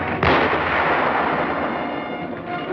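A heavy artillery blast booms close by in a WWII battle at San Pietro, then rolls into a dense, sustained rumble of distant gunfire that carries on for a couple of seconds.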